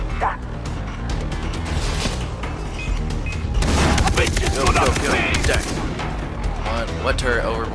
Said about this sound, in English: You manned that turret over there.